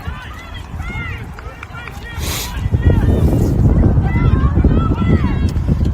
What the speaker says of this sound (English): That's some wind coming at us